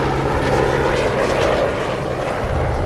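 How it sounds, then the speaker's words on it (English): A helicopter passes overhead on a whale-watching outing, its rotor and engine making a steady, loud, broadband roar that holds throughout with no voices. "Maybe that helicopter scared them all away."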